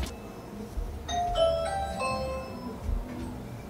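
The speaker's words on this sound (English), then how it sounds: "Weird doorbell." An unusual chime-like doorbell rings out, a few bright tonal notes ringing and overlapping over a low background hum, then fading.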